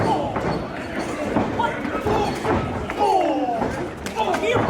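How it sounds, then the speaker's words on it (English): Body shots and dull thuds in a wrestling ring at a live match, repeated blows landing under crowd noise and commentary. "Rich King firing in body shots on Elliot Tyler"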